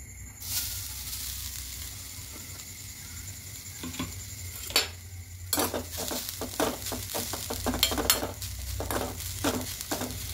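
Grated coconut is stirred in a small wok, a spatula scraping in quick repeated strokes that grow busier over a soft sizzling hiss.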